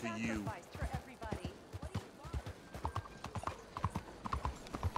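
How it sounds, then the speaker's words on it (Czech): A horse's hooves clatter up a flight of stairs in Red Dead Redemption 2, a close, rapid, uneven run of hard clip-clops with a brief whinny at the start. "jak jde na koni po schodech"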